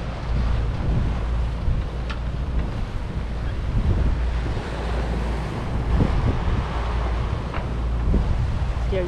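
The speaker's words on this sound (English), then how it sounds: "Here you can see maybe how the waves are very churned by the narrowing and the tide and the wind." Waves churned by tide and wind slap and roll through the narrow Rat Cay cut, heard from a boat as a steady wash of surf under heavy, constant wind buffeting on the microphone.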